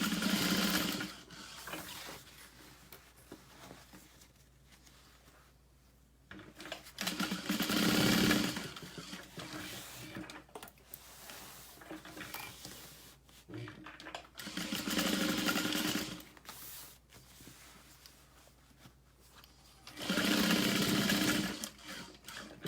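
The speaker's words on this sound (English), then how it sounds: "Smaller stitch length. And we're going to back stitch each one of those." A sewing machine stitches in several bursts with quiet pauses between, sewing a zippered center divider into a tote bag at a short stitch length with back stitching, and faint talk at times.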